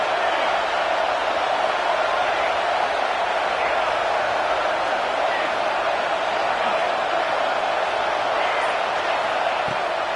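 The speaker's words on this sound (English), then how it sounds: "Listen to this crowd just shaking the girders of this place" Stadium crowd at a Michigan vs Miami football game roaring steadily and loudly to help the defense, a dense unbroken wall of noise throughout with no clear talk.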